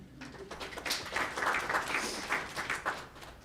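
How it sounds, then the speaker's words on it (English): Applause from a lecture audience rises and holds for a few seconds, a dense patter of many hands at moderate distance with no talking over it. "I'm gonna ask you to clap for folks in philanthropy who are doing it right."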